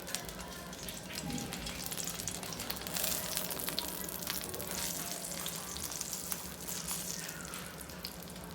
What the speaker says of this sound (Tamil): இப்போ கொஞ்சம் நெய்யில் நம்ம வறுத்துக்கிடும்.